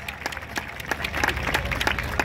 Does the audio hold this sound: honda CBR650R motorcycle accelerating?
no